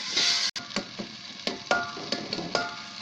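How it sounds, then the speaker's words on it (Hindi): Five or six chopped tomatoes frying in a pan for a potato curry, a steady sizzle broken by several sharp scraping stirs and taps of a spoon against the pan. "टमाटर हमारा पक रहा है"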